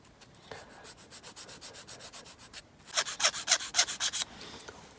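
A file rasps back and forth on the underside of a small 1/64 scale Corgi Juniors die-cast Ford Gran Torino, quick regular strokes, close and soft at first, then louder and harsher for a short burst before a pause.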